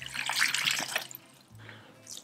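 Boiling water poured into a portable mini washing machine with spin, a soft splashing gush up close that trails off, followed by a brief second trickle.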